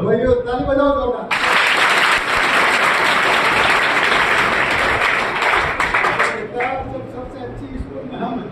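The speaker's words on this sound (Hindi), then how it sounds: "ताली बजाओ दोनों" Loud, dense applause from an audience at a motivational event at a school in Degana, Nagaur, rising abruptly and sustained for several seconds with a voice over it before fading.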